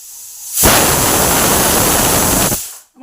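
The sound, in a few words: pressure cooker whistle releasing steam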